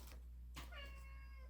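A cat gives a single short meow, faint and close, during meat preparation for cat food in a kitchen, with a soft thump and low hum around it.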